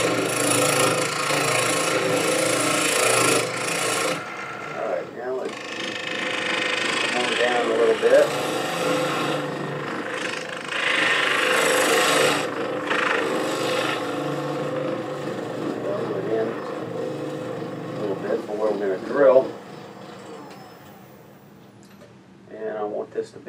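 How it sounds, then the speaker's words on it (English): A half inch pull gouge scrapes cherry burl on a wood lathe, giving a loud rough, raspy hiss that rises and falls in long passes, with short pauses and some talking between cuts. "I'm going to switch to a half inch pull gouge"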